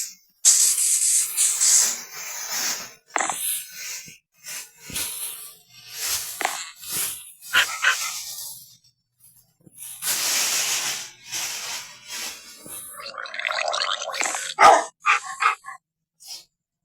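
Minecraft Bedrock Edition dogs yip and bark repeatedly amid hissing, spraying game noise, the barks close and frequent throughout with no talk.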